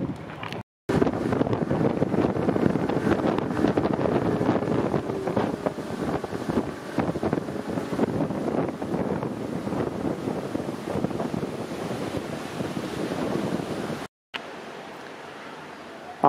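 A speedboat engine drones steadily on a bumpy sea ride off Koh Samet, Thailand, under heavy wind buffeting the microphone, with rushing water noise throughout, loud and close, briefly cutting out near the end.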